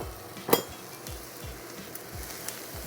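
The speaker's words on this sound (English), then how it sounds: "Now I'm going to put the garlic in the middle, give it a little time to cook on its own." Garlic sizzles in a skillet while corned beef cottage pie is being cooked, a steady close frying hiss broken by one sharp utensil clink and a few soft scraping stirs.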